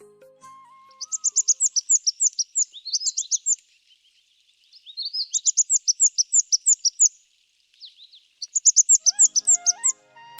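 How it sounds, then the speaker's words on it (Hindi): A male fire-tailed sunbird calls in the Kumaon hills of the Himalaya, giving repeated bursts of high, thin, rapid chirps in three clear bouts separated by pauses. It sounds fairly close against an otherwise quiet background. "वो है फायर टेल्ड सनबर्ड का नर पक्षी"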